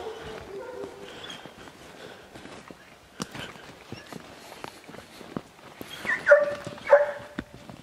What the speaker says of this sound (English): Good dog, Daisy.